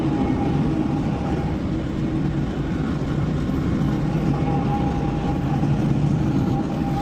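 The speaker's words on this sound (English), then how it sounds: "Hopefully this train doesn't block us or stop right in front of us." A train passes close to a truck waiting on a cold Wisconsin day, producing a loud, steady, unbroken rumble that fills the whole stretch.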